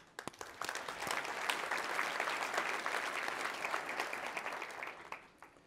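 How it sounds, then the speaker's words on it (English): Applause from an audience at a talk on invention and magic rises quickly and holds as a dense, even patter of many hands, heard from a distance and fairly soft, tapering off at the end. "So big applause to all of you."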